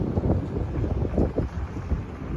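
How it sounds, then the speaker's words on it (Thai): Strong wind buffets a microphone outdoors, a continuous loud low rumble that swells and gusts through the whole stretch with no voices. "แถวนี้ลมแรงมาก"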